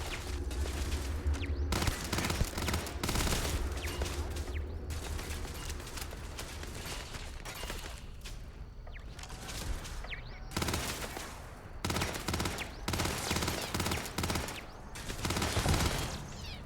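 Turret gunfire in the sci-fi game Starfield: dense bursts of rapid shots in clustered volleys, loud and close, with brief gaps between strings of fire.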